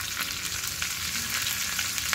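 Curry leaves dropped into hot oil with green chillies for a dhokla tempering: steady, bright sizzle and frying crackle with scattered pops, close and continuous, no talk.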